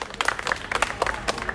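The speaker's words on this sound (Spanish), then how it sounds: "¡Un aplauso para comodín!" Brief applause from a small group on a quiz game show, a quick scattered burst of claps lasting under two seconds.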